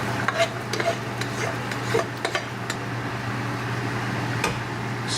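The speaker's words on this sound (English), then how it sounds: "Transport dal into our fry pan." Cooked red lentil dal scraped and transferred into a kadai frying pan, giving a steady soft scraping and stirring texture with a few light utensil clicks over a constant low hum, no talk.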